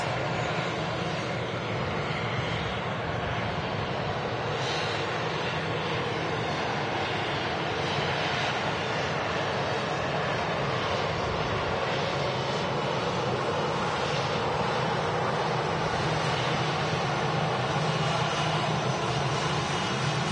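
Airbus A319 airliner departing Manchester Airport for Marrakesh, a sustained loud broadband jet engine roar that holds steady across the whole stretch, slowly swelling.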